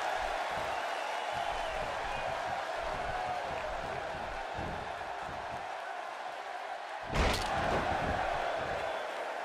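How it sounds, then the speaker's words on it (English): Arena crowd noise in the WWE 2K16 wrestling video game, a steady roar of cheering throughout with a sharp slam-like burst near the end lifting the noise. "by the sound of this crowd, I think they're getting what they wanted"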